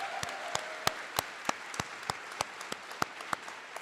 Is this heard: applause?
yes